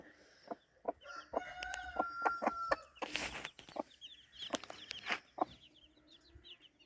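A rooster crows nearby, long and drawn out, amid scattered clucking and chirping from other fowl and birds.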